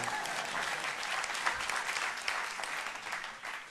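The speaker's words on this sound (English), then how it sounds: "you can applaud that, absolutely" Audience applause at a talk, a steady wash of many hands clapping throughout, moderately loud and unbroken, with no voices standing out.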